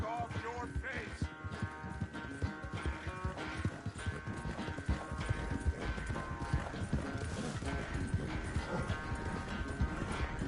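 In the Red Dead Redemption 2 video game, horse hooves clip-clop at a steady walking rhythm, with faint ambient hum and occasional quiet voices in the background.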